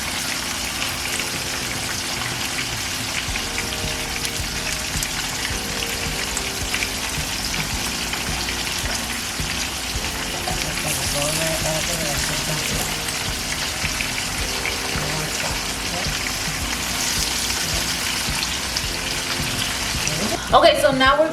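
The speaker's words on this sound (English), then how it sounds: "we're adding the onions to the areas where in the pan where there's no meat, so they can cook evenly with the steaks" T-bone steaks and onions fry in a pan with a constant, dense, rain-like sizzle that holds steady and close throughout, faint voices now and then, and a brief clatter at the very end.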